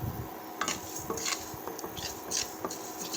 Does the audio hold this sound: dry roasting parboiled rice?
yes